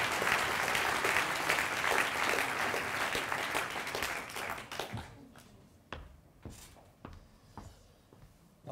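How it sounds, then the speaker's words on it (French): An audience applauds at a 2020 ethics awards ceremony: about five seconds of dense, sustained clapping that thins out into a few scattered, isolated claps near the end. "je vous demande de l'applaudir bien fort"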